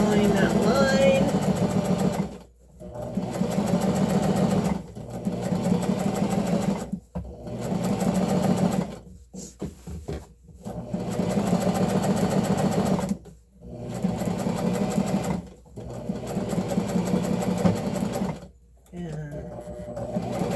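A sewing machine stitches fabric in a run of loud whirring bursts that stop and restart every few seconds, back stitching between passes, with a voice talking in the gaps.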